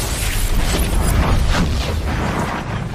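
Grenade explosion in Army of Two: The Devil's Cartel, a loud deep boom with a rumbling, crackling tail and scattered debris bursts, close and filling the whole stretch without talk.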